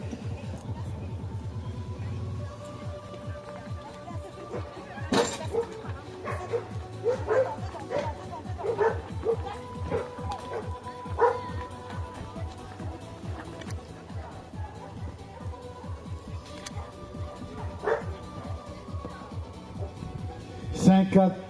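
A dog yips and whimpers repeatedly in short bursts, with people talking nearby and a faint engine hum underneath.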